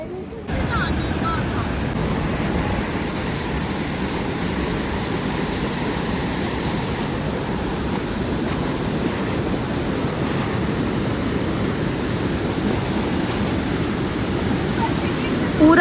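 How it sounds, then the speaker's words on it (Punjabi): Snowmelt water rushes along the mountain trek from Govindghat to Govind Dham toward Hemkund Sahib, a dense, steady roar that holds unbroken at close range for the whole stretch. "ਬਰਫ਼ ਦਾ ਪਾਣੀ ਖੋਰ ਖੋਰ ਕੇ ਆ ਗਈ"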